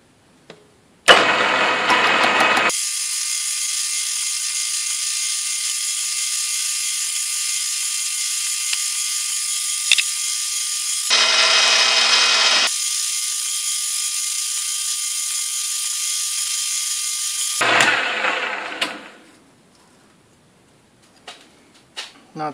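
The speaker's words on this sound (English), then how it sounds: "Deburr that edge, should be nice." A power tool deburrs the edge of a metal plate for a monitor VESA mount, whirring loudly and close in three sustained bursts separated by short pauses, then winding down.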